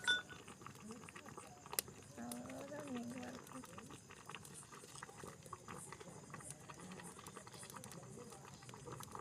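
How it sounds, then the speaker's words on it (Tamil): A pot of milk for Pongal simmers at a steady low bubble throughout, faint and close, with a voice speaking briefly partway through. "ஒரே பக்கமாக கொதிக்கிறதுல நடுக்கு கொதிச்சு ஆகணும்"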